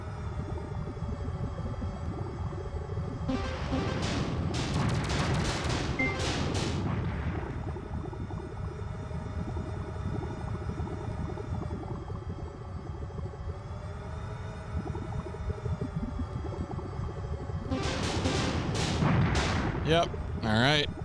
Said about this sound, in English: We should be able to kill at least one of the other ones with missiles